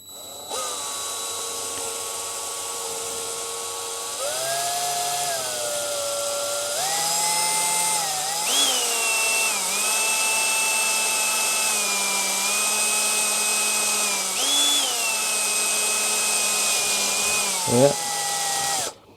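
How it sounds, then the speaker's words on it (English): A high-pitched drill with a 6mm bit whines steadily for a long stretch while drilling a hole in plastic, its pitch stepping up and down as it bites, ending with a brief clunk. "I need to find a 6mm drill bit"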